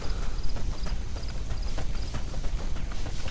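Donkey hoofsteps in the video game Metal Gear Solid V, a steady run of soft clip-clop beats over a dense, noisy game background with a faint high chirping tone repeating.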